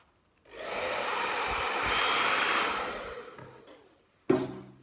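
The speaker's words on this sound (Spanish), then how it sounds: "Ahora voy a secar un poco con el secador para poder sacar las pinzas." Hair dryer blowing on hair to dry it before clips are removed, with a steady close whir and rush of air that runs for about three seconds and then fades, followed by a brief clatter.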